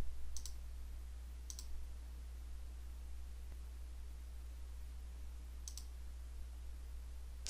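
A few sharp, quiet computer mouse clicks while working in Civil 3D software, spaced seconds apart over a low steady electrical hum.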